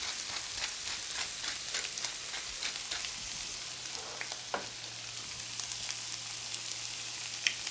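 Shrimp sear in a hot pan with barbecue sauce, producing a steady crackling sizzle with scattered sharp pops and spatters, fairly close and with no talking.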